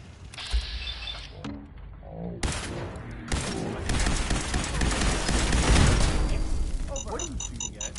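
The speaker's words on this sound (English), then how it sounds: "What are you shooting at?" Bursts of gunfire in the Fallout 4 wasteland, rattling loudly in rapid clusters amid other game sounds, with a voice talking in between.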